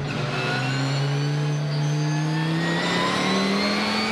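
GT race cars at Assen roar off the line together at a race start, a loud continuous engine drone with rising pitch as the pack accelerates, steady and close with no talk.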